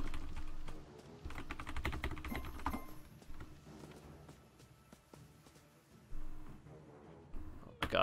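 Rapid clicking from a faulty computer keyboard that double- and triple-types, heard under game audio during a ranked Conquest match, with irregular bursts of keystrokes throughout.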